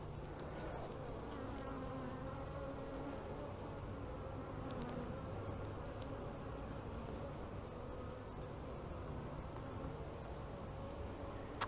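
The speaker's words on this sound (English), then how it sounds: "And still not near as many bees as I expected." Honey bees buzzing inside an open, queenless hive: a continuous, even, faint droning hum filling the whole stretch, with occasional closer wingbeat flickers and no talking.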